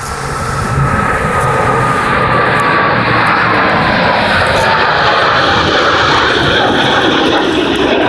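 Blue Angels jets fly the Delta breakout, or Delta fan, maneuver at an air show, a loud broad roar of jet engines sustained throughout without speech.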